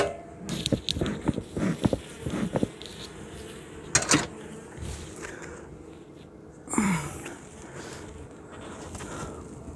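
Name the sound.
honey bees buzzing around an open beehive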